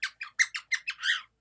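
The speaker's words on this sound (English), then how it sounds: "Excuse my birds." Pet bird squawking indoors in a run of seven sharp, close calls at a quick, uneven pace, the last one drawn out longer, with no talking.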